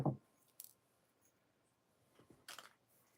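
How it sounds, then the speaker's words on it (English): Jewelry wire snipped with cutters while making a cluster necklace, two or three quiet sharp clicks with near silence between them. "And now I'm going to cut this off."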